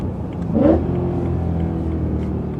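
Rising engine rev from a BMW E92 M3 with a manual gearbox, a brief blip of the throttle during a rev-match, swelling near 0.6 s then settling into a steady, loud cabin drone.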